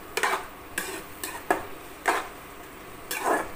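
Mushroom gravy being sautéed in a pan: a spoon stirs and scrapes across the pan in about half a dozen distinct strokes, close and fairly loud, over a faint sizzle, with no speech.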